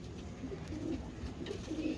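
A teddy pigeon coos softly and repeatedly, low and muffled, over a steady wash of background noise with no talk.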